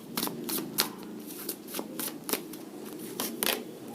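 Tarot cards being shuffled by hand in a series of quick riffling, flapping bursts, close and fairly loud, with no talking.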